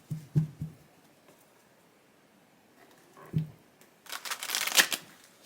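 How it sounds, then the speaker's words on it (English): Cards from a Morgan's Tarot deck being shuffled and drawn: a few soft thumps and riffles early on, then a louder burst of crisp shuffling flutter near the end, close and without talk. "So let's get 3 cards out of the tarot deck"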